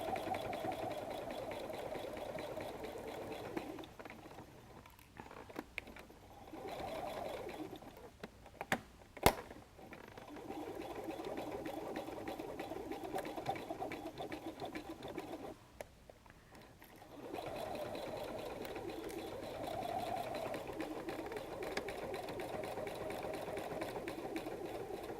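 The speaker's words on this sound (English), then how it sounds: "I'm going to back stitch." A sewing machine back stitches on a messenger bag, running in steady whirring stretches broken by short pauses and a sharp click, close and moderately loud with no voices.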